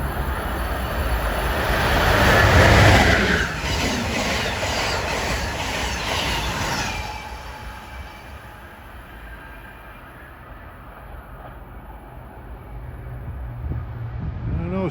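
Amtrak train 193, New York to Washington, sweeps past at New Brunswick, New Jersey, a loud close roar with rhythmic wheel clatter peaking early, then fading to a distant rumble.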